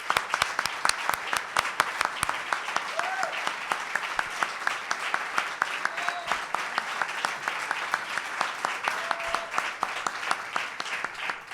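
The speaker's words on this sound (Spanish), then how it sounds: "Un aplauso." An audience breaks into sustained applause at a public talk about comprehensive sexual education, dense clapping steady and fairly loud throughout, with a few faint voices beneath it.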